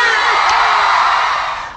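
Fans at a concert stage shout and cheer in a loud, dense roar of high voices that holds steady, then eases slightly at the end.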